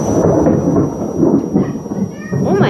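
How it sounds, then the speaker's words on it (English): Thunder rumbles loud and close during a rainstorm, a deep rolling boom lasting the whole moment, and a short high squeak or meow-like sound rises near the end. "that was thunder"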